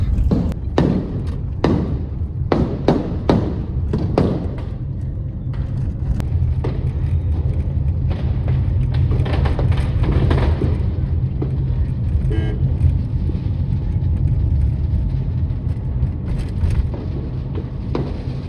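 Diwali firecrackers bursting overhead outdoors, with a run of sharp loud bangs at the start giving way to continuous dense crackling and thumping, with traffic rumble below.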